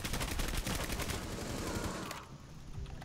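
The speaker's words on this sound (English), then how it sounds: "Okay, I'm gonna shoot down the stairs." Rapid automatic gunfire in Rainbow Six Siege, fired down a staircase, rattles loudly in a dense sustained burst for about two seconds before cutting off to quieter background.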